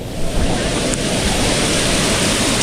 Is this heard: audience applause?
no